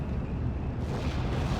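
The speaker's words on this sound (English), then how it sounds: "Nice chunky explosions" A deep, rumbling blast from 8-inch gun shells landing in the Steel Division Normandy 44 video game, a low sustained explosion roar at moderate volume with no talk.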